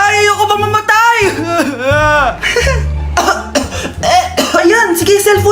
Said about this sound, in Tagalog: Anak, umubo ka ba? May COVID ka na!